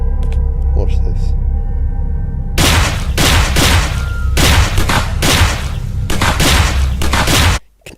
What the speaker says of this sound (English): You can actually shoot their body parts off